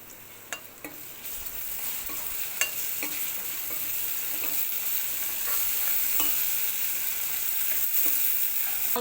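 Ground cumin, coriander, turmeric and ginger-garlic paste frying in hot oil for a shrimp dish, with a steady close sizzle and scattered scraping clicks from stirring throughout.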